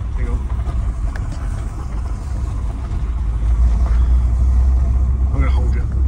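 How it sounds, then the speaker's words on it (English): A mk4 Volkswagen Golf VR5 with a newly fitted drive shaft rolls along in second gear, a steady low engine and road rumble that grows slightly louder, with the driver talking over it. "I'll keep it in second gear, just going round"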